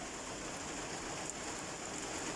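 Heavy rain pours down steadily on an allotment, a dense constant hiss of drops with no pauses and no voices.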